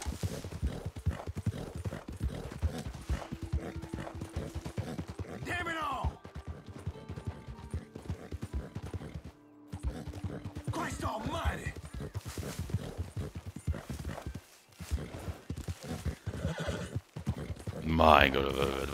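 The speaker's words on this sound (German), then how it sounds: "was tingelt denn mein Pferd hier so rum?" Horse hooves clip-clop and a horse neighs in the Western video game Red Dead Redemption 2, the hoofbeats steady throughout with a whinny near the end, under ongoing talk from a player.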